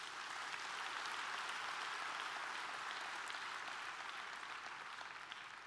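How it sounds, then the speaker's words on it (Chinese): Audience applause for the front-row leaders at a 2019 regional leaders' training session in Malaysia: a dense, even wash of many clapping hands that holds steady throughout, distant and fairly faint, with no voices above it. "给这些前排的领导人一个热烈掌声"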